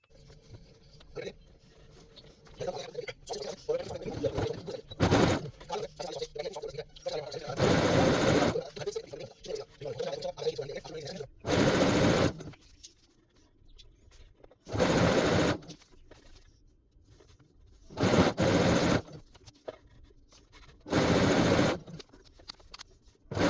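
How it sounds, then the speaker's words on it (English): A sewing machine stitches the crotch and side seams of baby trousers for a 3 to 6 month old. Loud whirring bursts come one after another between quieter stretches, and a person talks in the pauses. "So first I'm going to stitch here the crotch and both the sides here"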